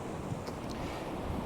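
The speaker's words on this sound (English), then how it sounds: "there's a bit of water splashing up" Sea water splashing against coastal rocks, a brief burst of broadband wash and spray under steady wind noise, fairly faint and with no voices.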